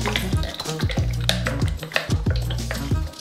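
Chocolate and butter melting in a pot are stirred steadily with a utensil, rhythmic scraping strokes against the metal under a low mechanical hum, close and continuous.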